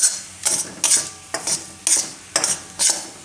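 Water chestnut flour is stirred and roasted in ghee in a pan, giving rhythmic scraping strokes about every half second, each with a short sizzle, close and clear.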